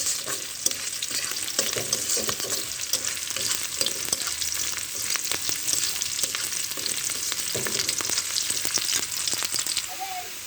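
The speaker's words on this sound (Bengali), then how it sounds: "এই যে একসাথে ভাজ দিছি" Ginger paste, onion and garlic frying together in hot oil, a steady close sizzle with scraping stirs throughout, no voices.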